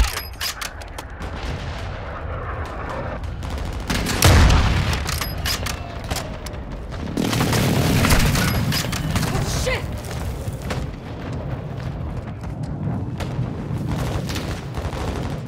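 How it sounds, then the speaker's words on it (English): Airstrike explosions in the video game Call of Duty: Modern Warfare II, with heavy booms around the 4 and 7 second marks. They ride over a continuous rumble of battlefield noise and scattered gunfire. "Hostile airstrike at the location."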